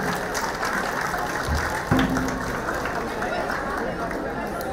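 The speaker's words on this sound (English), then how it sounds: "A big round of applause for Mr. Lal, please." Audience applause at the Namaste Stockholm 2023 inauguration event, a steady broad wash of clapping from a crowd that runs the whole stretch at an even level, with a brief thump near the middle and some crowd murmur mixed in.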